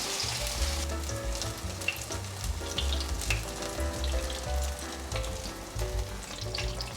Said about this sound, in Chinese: 油热了放进来煎